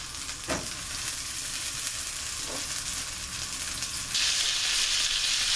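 Butter sizzling in a frying pan for Salisbury steak, a steady close hiss with a couple of soft knocks, swelling into a brighter, louder sizzle toward the end.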